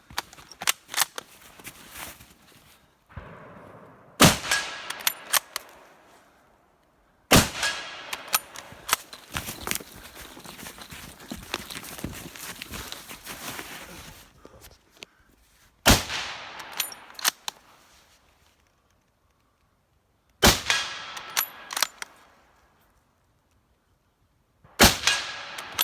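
Mauser K98k and Mosin Nagant rifles fired one after another outdoors, sharp loud single shots spaced several seconds apart, each followed by a fading echo tail, with a faint voice briefly heard.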